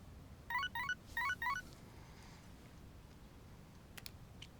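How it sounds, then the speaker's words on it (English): A text message notification in the Persona 3 Reload video game gives two quick pairs of chirpy electronic tones over quiet background noise, followed later by a couple of faint clicks. "I've got a text message."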